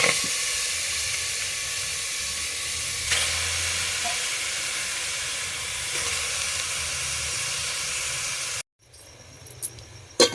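Steady loud sizzling and frying hiss as mutton goes into a pot over a wood-fired stove fills most of the clip, then cuts off abruptly, followed by quieter crackling and a few clinks.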